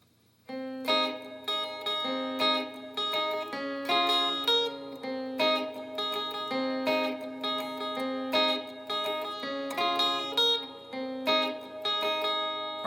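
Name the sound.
guitar strumming verse rhythm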